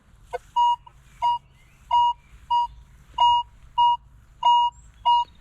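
A Minelab Equinox 900 metal detector gives a target signal: eight short, clean, high beeps in an even rhythm, loud and close, with no talking.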